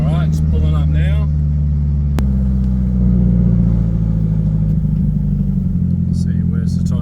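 A Nissan 180 rolls up at low speed, its engine a steady mid-pitched drone close by with a sharp click partway through; voices are heard over it.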